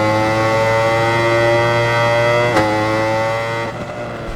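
A racing motorbike engine in RIDE 4 holds a loud, steady high-revving whine near the mic, with a brief blip at a gear change before the pitch shifts and eases toward the end.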